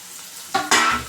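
Curry leaves and green chillies drop into hot oil, a sudden close sizzle that flares twice in about a second.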